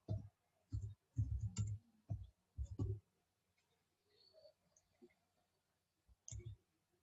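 A computer keyboard is tapped out in short bursts of crisp, close key clicks to enter a phone number, with pauses between groups and quiet gaps, no voices.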